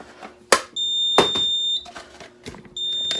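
A demonstration fire alarm control panel signals a Bell 2 trouble condition with steady high-pitched electronic beeps that start and stop in a regular pattern. Sharp clicks and knocks from handling the equipment come in between.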